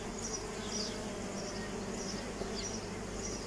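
Honey bees from a drone-laying colony hum in a faint, continuous buzz outdoors around a swarm trap, with occasional louder passes as individual bees fly close by.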